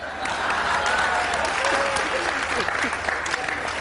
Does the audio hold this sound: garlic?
no